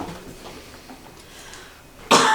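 A short, loud burst near the end sounds like a single harsh cough against quiet indoor room tone, in an old mansion during a night-time paranormal investigation.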